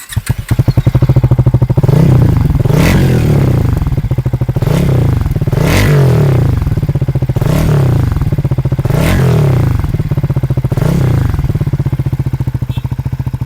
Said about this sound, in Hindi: इसका एग्जॉस्ट नोट इस तरह से है।